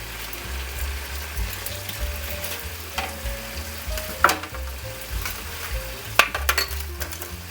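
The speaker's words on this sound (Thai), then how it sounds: "พอเริ่มมีเสียงชาให้กดแบบนี้1-2 นาที" Chicken teriyaki sizzles and fries in a pan, with a steady crackle and occasional scraping and knocking of a utensil as the meat is pressed and stirred, close by and with no voices.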